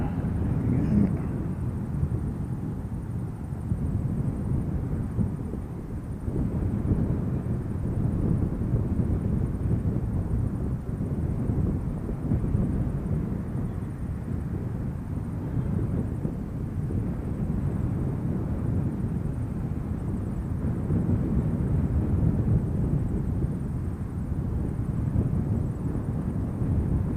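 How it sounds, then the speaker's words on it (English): Steady outdoor wind rushing across the microphone at a plane-spotting spot, a continuous low broadband roar holding at an even level for the whole stretch with no voices. "Wind has picked up a little bit."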